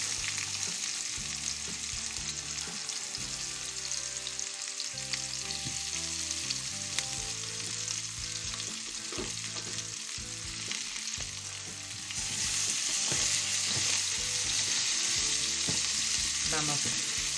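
Onion sautés in a little oil in a pan, giving a loud, continuous sizzle and crackle with occasional stirring that grows slightly louder toward the end, with no talking.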